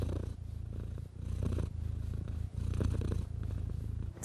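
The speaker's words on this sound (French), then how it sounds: "Le ronronnement a des effets bénéfiques sur la santé physique et psychique de l'homme" A cat purrs steadily and close up, a low rumbling that pulses with each breath in and out, heard alone with no voices over it.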